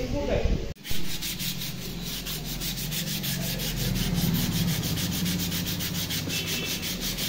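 Sandpaper is rubbed by hand over primer on a TVS Wego scooter body, a continuous, close, rhythmic scratching of rapid strokes after a brief pause near the start.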